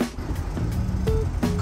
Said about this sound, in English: Cars as far as the eye can see.